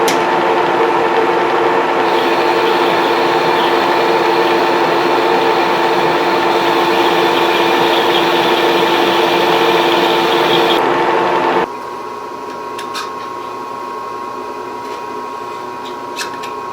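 A lathe makes a cutting pass on an internal bushing for a barrel tuner, a loud steady mechanical whir with a constant whine that drops away sharply near the end, leaving a quieter hum.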